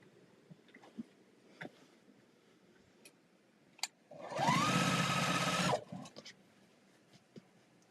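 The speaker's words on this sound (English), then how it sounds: "We're just going to sew." A sewing machine stitches quilt rows together in one continuous run of about a second and a half, a buzzing whir between quiet ticks and small handling clicks.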